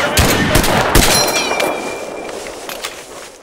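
Battle gunfire from Mud and Blood, with rapid sharp shots cracking in quick succession near the start, a metallic ring or whine trailing off, then sparser, fainter shots as the noise thins out.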